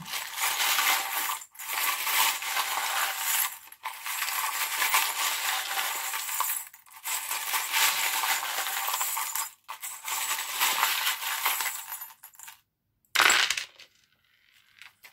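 Small metal tarot charms are cast out and rattle and clink together in repeated bursts, like tumbling coins, each lasting a few seconds with short pauses between them, close and fairly loud.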